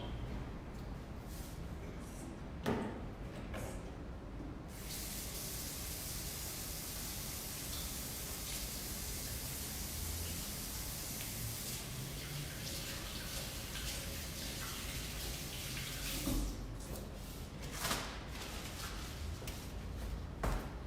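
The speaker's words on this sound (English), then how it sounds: "I'm gonna go wash my hands really quick" Tap water running steadily during hand washing, a faint continuous hiss that surges louder in the middle, with a few knocks at the start and end.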